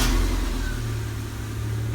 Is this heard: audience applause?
no